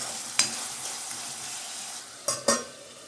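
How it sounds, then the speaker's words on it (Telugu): Ginger garlic paste frying in oil for an Andhra-style prawn fry, a steady close sizzle broken by a few sharp scrapes as it is stirred. "అల్లం వెల్లుల్లి పేస్ట్ కూడా చక్కగా ఫ్రై అయిపోయింది."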